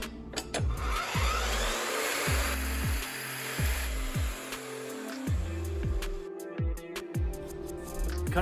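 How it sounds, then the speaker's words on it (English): A VEVOR chop saw cuts through round aluminum tube: a loud, close motor whine with repeated falling pitch sweeps as the blade bites and slows, continuous throughout. "Cut aluminum, no problem."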